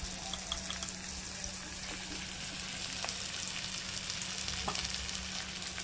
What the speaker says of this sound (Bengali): পেঁয়াজ লঙ্কা উচ্ছে 3টেই ভাজা হয়ে গেছে।